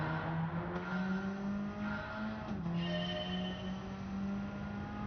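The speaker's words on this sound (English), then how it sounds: "you can hear the tires just screaming" Engine drone and sustained tire squeal in Gran Turismo 7 at Brands Hatch circuit, pitch sliding as the car corners, continuous and fairly quiet with no talk.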